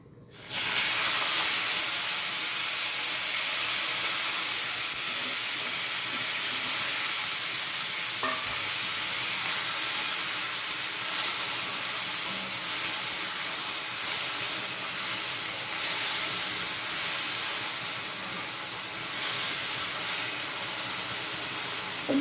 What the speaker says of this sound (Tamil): கடுகு பொரியட்டும் பாருங்கள் கடுகு சீரகெல்லாம் நல்லா வெடிச்சிருச்சு